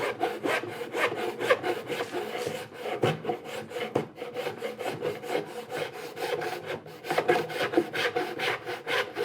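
A hand saw cuts back and forth through layered wood while a sharpening plate holder is being made, giving steady rhythmic rasping strokes that are close and fairly loud. No voice is heard.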